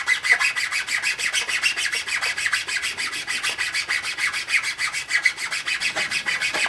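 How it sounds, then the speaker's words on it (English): A chainsaw file rasping string grooves into a wooden bow, quick even back-and-forth strokes scraping in a steady close rhythm for several seconds. "cut the string grooves in just about the depth of the chainsaw file"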